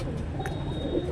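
Soft pigeon coos from a Delhi pigeon at a rooftop loft, a short low murmur over steady outdoor background noise with no talking.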